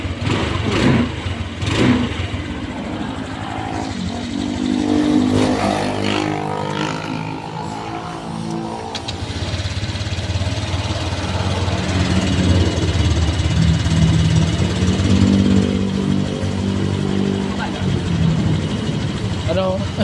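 Honda Click V2 scooter engine running during a throttle cable adjustment, a mid-pitched motor idling and revving in uneven bursts, fairly close, with people talking over it throughout.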